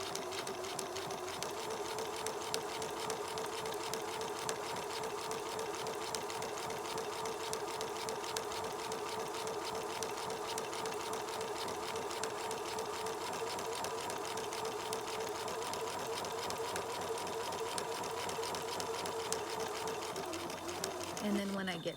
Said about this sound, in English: So I'm going to sew across right down this line.